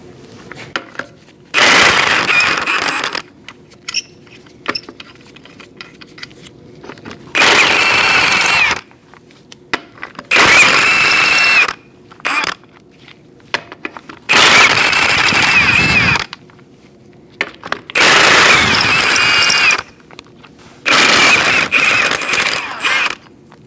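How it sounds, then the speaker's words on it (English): Lug nuts are being removed from the front wheel of a 2004-2012 Chevrolet Colorado 3.7L truck with a 19mm socket and a ratchet or power tool. Six loud bursts of mechanical whirring, each lasting one to two seconds, are split by short quiet gaps. "Using a 19mm socket, we're going to remove our wheel."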